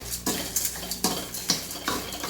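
Coconut and urad dal dropped into a cooking pan while making pirandai thuvaiyal, giving a few close clattering scrapes and light metallic knocks of a spoon against the pan, spaced irregularly with no talk.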